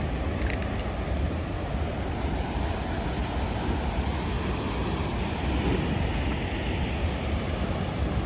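Ocean waves roll onto Ramsgate beach in KZN as a steady, broad surf roar mixed with wind buffeting the microphone, no talk.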